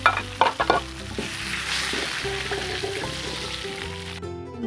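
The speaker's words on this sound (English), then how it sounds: "I'm done frying the fish," Steady, dense sizzling of fish frying in hot oil, with a few clattering knocks at the start, then an abrupt cut.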